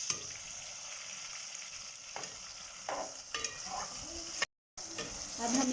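Okra pieces fry lightly in a pan, giving a gentle steady sizzle broken by several spatula scrapes and stirring knocks, close but soft, with a brief dropout near the end.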